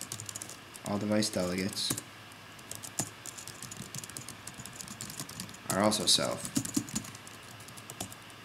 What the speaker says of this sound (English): you end up typing this quite a bit